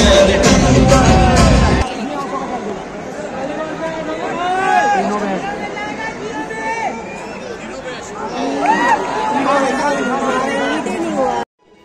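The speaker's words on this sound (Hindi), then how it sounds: "यहाँ पे भीड़ है, बट उतना भीड़ नहीं है जैसे मेन मैच में भीड़ होता है" Crowd of spectators chattering at a legends league cricket match in Ranchi, a steady hubbub of many overlapping voices with some louder calls rising now and then, continuous over roughly twelve seconds.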